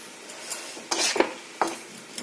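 Tomato puree being stirred into a Bengali malaikari curry in a pot makes several soft scraping and clinking strokes, spaced apart over a faint background.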